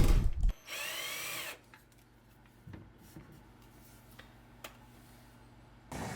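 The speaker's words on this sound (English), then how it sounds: "Drop it in, tighten the screws, and this project's done." A power drill whirs for about a second while driving screws to fix a wooden insert in place, followed by quieter clicks and handling sounds, with another brief burst of drilling at the end.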